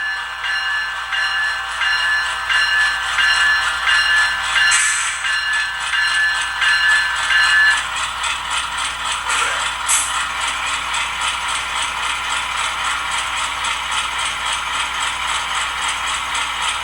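Scaletrains Dash 9-44CW model locomotive with sound running at slow speed: a steady, close diesel engine drone with a continuous mechanical rattle and faint hum, even in loudness throughout, with no talk.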